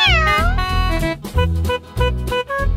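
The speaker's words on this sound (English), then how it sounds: "Cat." A cat meows repeatedly over a bouncy, loud children's song backing, the cries clear and close among farm-animal sounds.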